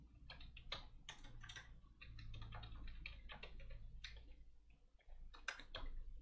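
JavaScript code is typed on a computer keyboard in quick, irregular bursts of soft clicks, close and faint, with a low hum underneath and no speech.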